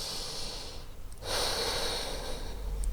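Deep breathing held in a yoga plank, long steady airy inhales and exhales drawn close to the ear, one breath pausing briefly before the next with no voices.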